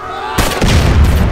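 Heavy explosion effects boom in GTA on the Liberty City test map, a sudden loud blast quickly followed by a second, deeper rumbling burst.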